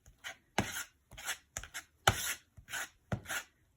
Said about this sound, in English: And then I have my spatula, my trowel, actually. And I'm just going to kind of mix this up a little bit.